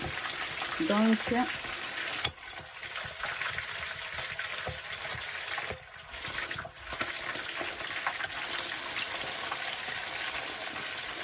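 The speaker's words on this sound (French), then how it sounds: "nous sommes en train de déposer les poissons dans la poêle" Horse mackerel fish sizzling in oil in a frying pan, a steady close crackling hiss throughout with a few brief knocks, no talk.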